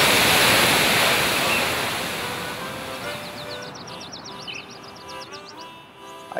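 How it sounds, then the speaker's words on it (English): A waterfall in the Grand Canyon rushing loudly as a steady broad roar, close at first and easing slightly, with faint chirping sounds toward the end. "Pretty tough to get right in against the waterfall."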